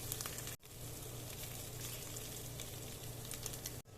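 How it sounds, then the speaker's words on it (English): Garlic sautéing in a pan over a low flame gives a steady, even sizzle that runs throughout, briefly dipping twice, with no voice. "You have to saute it till it turns golden brown, and I am doing this cooking in low flame."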